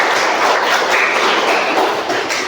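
Classroom students clap for themselves after finishing a school project, a dense, loud burst of many hands clapping close by for a couple of seconds.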